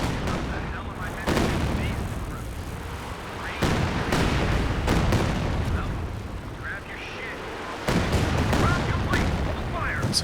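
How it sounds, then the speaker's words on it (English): A creeping artillery barrage in Company of Heroes 2 rumbles with heavy booming impacts at irregular intervals over continuous low battle noise, with talk running underneath. "It's a creeping barrage."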